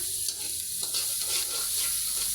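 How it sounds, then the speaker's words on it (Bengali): Garlic, onion and plenty of green chilies frying in oil for a leafy greens dish, a steady close sizzle with soft stirring beneath and no voices. "এখন এগুলো ভেজে নিয়ে শাকটা তেলে দিয়ে দেবো"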